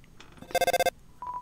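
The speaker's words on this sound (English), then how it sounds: "Phone call." A phone call in the Undertale video game rings as a quick burst of about six bright, evenly spaced electronic trills, followed by a short single beep-like tone, against near-silence.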